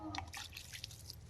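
Water trickling and dripping onto newly planted flower cuttings in a home garden, a brief, soft series of drips and splashes heard close by.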